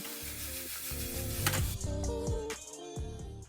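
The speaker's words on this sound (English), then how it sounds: "I'm going to go ahead and just have that sear, flipping it occasionally" Chicken sears in a pan with a little lemon and is flipped now and then, giving a steady sizzle with a sharper burst of crackle partway through. A tonal background runs underneath.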